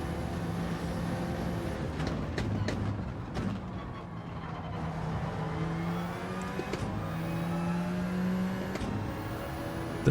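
Gr.3 race car engine droning steadily at Lago Maggiore in Gran Turismo, a continuous loud whine with shifting pitch as it accelerates and brakes, with other cars audible nearby.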